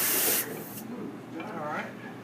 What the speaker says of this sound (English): now I'm going to purge this hose